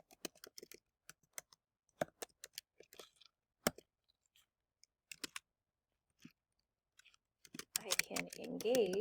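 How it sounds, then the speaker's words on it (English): Keys clacking on a computer keyboard in irregular bursts of taps with pauses, fairly close, ending as a voice starts talking. "Well, I'm not going to finish typing that."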